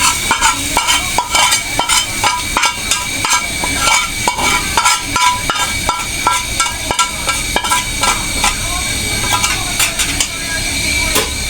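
Onions frying in a pan of hot oil and being stirred while cooking taro greens and fried small fish, giving a steady close sizzle with repeated scraping and clinking of a spatula against the pan throughout.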